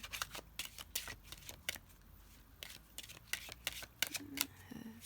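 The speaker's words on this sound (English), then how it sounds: "Y'all can feel free to skip through the shuffling if you like." Tarot cards shuffled by hand: quiet, rapid papery clicks and riffles in an irregular stream, soft and close, with faint background noise.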